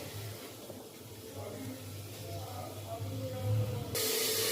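Chopped tomatoes hitting about two spoons of hot oil in a cooking pan give a steady, soft sizzling hiss that swells slightly at the end, with a voice talking over it.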